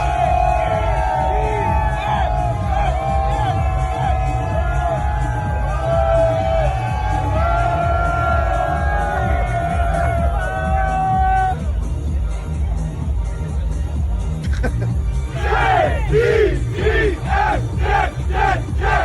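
A packed stadium crowd at a Jets football game chanting loudly in unison with pauses between chants, then erupting into cheering and roaring, sustained and close.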